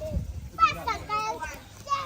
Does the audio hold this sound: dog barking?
no